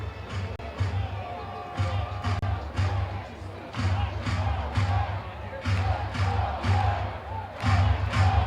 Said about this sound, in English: Let's Go Revs chant picks up in front of a strong crowd.